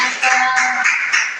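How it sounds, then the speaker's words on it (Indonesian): Classroom pupils clapping hands in a short burst of overlapping applause, a few louder swells within about a second, close and fairly loud. "Iya, tepuk tangan."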